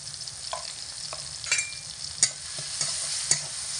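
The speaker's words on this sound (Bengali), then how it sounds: "এগুলোকে দিয়ে হাফ মিনিট মতো নাড়াচাড়া করে নেব।" Salt, turmeric and red chilli powder stirred into vegetables frying in a pan for a vegetarian drumstick, potato and pumpkin dish, with a steady hissing sizzle and soft, irregular spatula scrapes up close.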